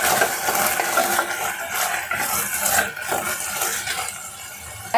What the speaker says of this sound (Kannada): ಈ ಥರ ಸ್ವಲ್ಪ ಫ್ರೈ ಮಾಡ್ಕೊಂಡು ಎಣ್ಣೆ ಒಳಗೆ.